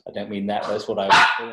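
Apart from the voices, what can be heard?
dog barking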